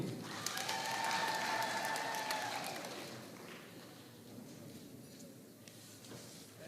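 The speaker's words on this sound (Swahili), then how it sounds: "Asanteni sana, matupigie makofi." An audience claps at a decennial celebration ceremony of a mission in Kituri, Tanzania; the applause is distant and moderate, peaking early, then fading to scattered claps, with faint speech in the background.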